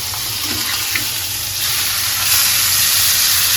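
Fish and spices fry together in a pan with a loud, steady, close sizzle and crackle that holds throughout and swells slightly toward the end.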